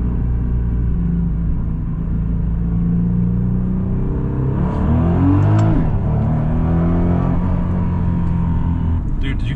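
A Nissan GT-R on an E85 tune pulls hard in first gear from inside the cabin, its deep engine drone rising sharply in pitch, with talk over the sound.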